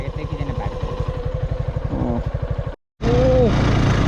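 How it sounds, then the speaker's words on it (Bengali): A motorcycle labours up a steep hill road near Marayatong in the Bangladesh hills, its engine pulsing in a rapid, steady rhythm close by. The sound cuts out briefly before returning louder and rougher, with a voice audible alongside. "নারায়ণগঞ্জ পাহাড়ে ভাই বাইক তো উঠতে চায় না পুরা।"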